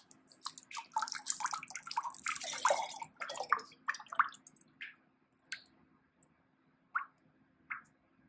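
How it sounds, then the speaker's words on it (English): Liquid pottery glaze is poured from a jug into a ceramic pot, starting with a busy stream of splashing and gurgling, then thinning into separate drips and plops that spread farther apart until the pour ends. "Pour it to the rim and count to 10."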